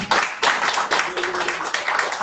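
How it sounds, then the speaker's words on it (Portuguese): A church congregation applauds during a service, a dense, close wash of many hands clapping continuously for a couple of seconds. "Pode aplaudir Jesus, irmãos."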